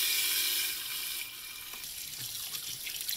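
Tap water rinses a raw turkey in a sink, a steady close hiss of running water that softens partway through into splashing and trickling as it hits the bird, with no voices.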